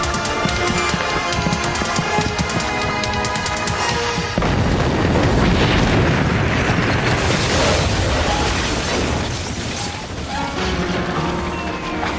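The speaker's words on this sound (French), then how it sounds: "Jan, sortez, il y a une bombe." A bomb goes off in a dramatized TV series scene, a long roaring blast with crashing debris and rumbling that fills the space, loud and sustained after a mechanical clatter.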